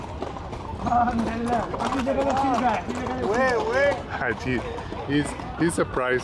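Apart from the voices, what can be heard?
horse hooves clip-clopping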